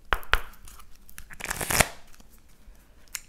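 Oracle cards are laid out and slid over a deck in a tarot-style reading, giving a few crisp papery slaps and shuffling rustles, close and fairly quiet, with no talking.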